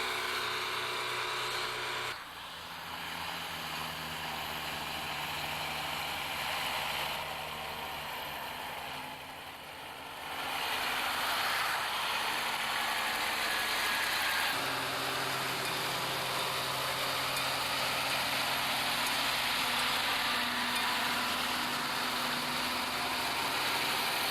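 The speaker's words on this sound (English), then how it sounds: "Then the rubber tire roller begins the compaction." A rubber tire roller compacts a fresh asphalt pavement surface, giving a continuous droning engine hum with steady low rumble that holds throughout, with no talk.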